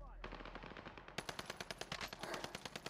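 A golden MP40 submachine gun fires in Call of Duty, with rapid automatic bursts of sharp, evenly spaced shots that grow louder and fuller after the first second.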